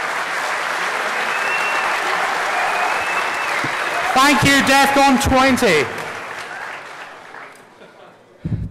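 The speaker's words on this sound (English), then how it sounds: "Let's hear a round of applause." A large audience applauds at the DEFCON 20 closing ceremonies in a big hall. Dense, sustained clapping runs throughout, someone speaks briefly over it, and it thins out toward the end.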